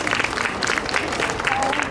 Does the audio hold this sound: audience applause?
yes